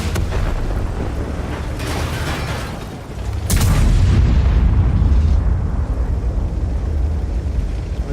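Tank cannon shot in World of Tanks, a loud boom with a sharp onset followed by a long rumbling low tail over steady in-game engine and ambient noise.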